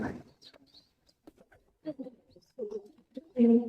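Soft, low pigeon coos come a few times close by, separated by quiet pauses, with a faint rustle at the start.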